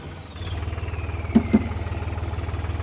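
A modified tractor's engine idles while it warms up, a steady low pulsing chug up close, with two short sharp knocks partway through and a faint high whine trailing off early.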